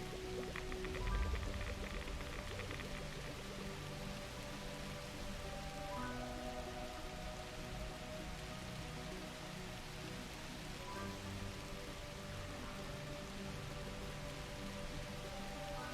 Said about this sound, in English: Put a rain cloud over it, and that'll wash the pollution away.